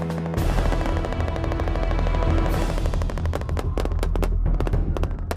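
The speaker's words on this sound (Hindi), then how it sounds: "मशीन गन से महायुद्ध के दृश्य दहलाने वाले थे।" Machine gun fire rattles through a fierce battle near an Al-Qaeda-held area, a dense, continuous stream of loud close shots with sharp individual cracks standing out toward the end.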